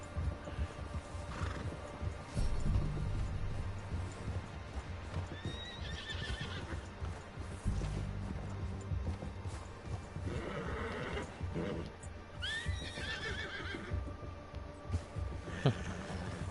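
A horse in Red Dead Redemption 2 whinnies a couple of times over steady clip-clop of hooves while riding along a mountain edge, close and fairly quiet, with faint game ambience.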